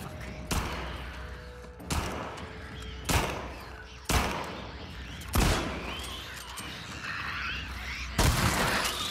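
Loud gunshots ring out in The Last of Us Part II, six sharp, evenly spaced blasts, each trailing off into a short echo.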